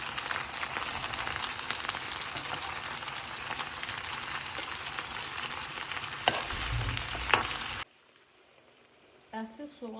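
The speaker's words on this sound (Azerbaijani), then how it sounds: "Mən indi ətləri tökürəm və soğanla biraz qovururam" Meat and onions fry in hot oil in a pan, a steady crackling sizzle with a couple of stirring knocks, cutting out abruptly near the end where a voice briefly speaks.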